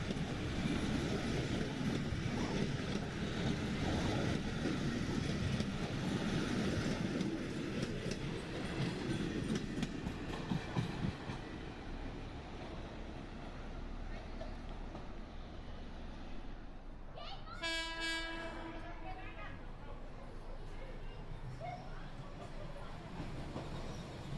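A passenger train made up of five Australian carriages between two regular SRT cars rolls through Makkasan Station in Bangkok. It gives a steady rumble with wheel clatter that eases off midway, and a brief tonal squeal or horn-like sound appears near the end.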